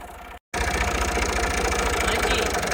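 A tractor engine running steadily outdoors at a mud house in Pakistan, a loud, close, chugging idle that drops out for an instant near the start and then continues unbroken.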